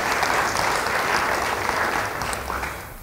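A church congregation breaks into sustained applause, a dense, even wash of many hands clapping at once that fades slightly toward the end.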